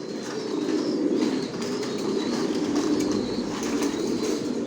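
A loft full of racing pigeons coos in a dense, continuous murmur, steady and close, with occasional soft wing rustles and no voices.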